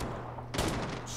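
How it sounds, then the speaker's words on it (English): A J358 revolver in Call of Duty Mobile fires a single burst of gunfire about midway, a sudden loud crack with a short ringing tail over quiet game ambience. "I can shoot through the wall"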